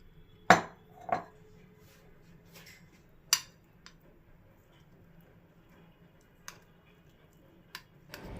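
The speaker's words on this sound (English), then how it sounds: "You need to fill the mold and then flatten it with the spoon which you have in a circular motion." A spoon pressing and flattening quinoa salad in a mold, giving a few sharp metallic clinks and taps spaced apart over a quiet room background, then fainter light ticks.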